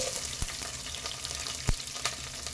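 Onions sizzle in hot oil with mustard seeds and curry leaves, a dense, even frying hiss with a few light clicks and one soft thud from stirring. No voices.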